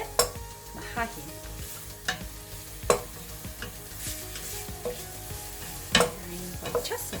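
Meat for Hungarian goulash sizzles and fries in a pot, a steady crackling hiss broken by sharp clanks and scrapes of stirring against the metal, with no talking.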